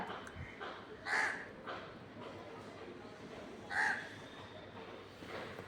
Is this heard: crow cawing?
yes